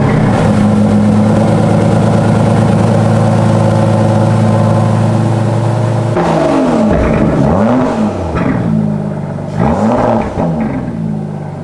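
An Aston Martin DBS engine rumbles through its quad exhaust pipes, a loud steady drone for about six seconds, then a string of sharp revs that rise and fall, with no talking.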